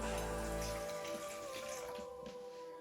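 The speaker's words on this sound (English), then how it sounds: "Now 200 grams of water." Water pours steadily into a bowl of sourdough starter with flour, a faint, close trickle that thins out after the first second into light splashing.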